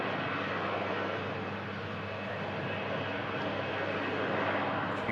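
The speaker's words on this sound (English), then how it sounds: "Here's a Charles de Gaulle flight with EasyJet." An EasyJet airliner headed for Charles de Gaulle passes overhead, a steady broad engine roar with a low rumble that holds fairly constant and swells slightly toward the end, heard from a distance with no talk.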